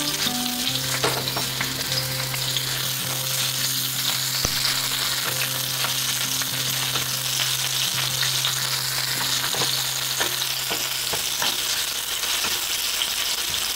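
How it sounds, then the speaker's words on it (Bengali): Chopped onions hiss and sizzle loudly in hot oil over medium-low heat for a mustard hilsa curry, with a steady crackle and occasional stirring clinks close by and no talking. "এখন পেঁয়াজ কুচিগুলি ছেড়ে দিচ্ছি।"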